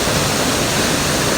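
A small waterfall or stream on a mountain hiking trail in Nepal, rushing loudly and steadily up close as a dense broadband roar with no voices.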